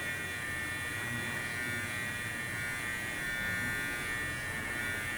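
An electric hair clipper cuts hair during a combover with a shadow fade, giving a steady close-up buzz at an even, unbroken pitch throughout.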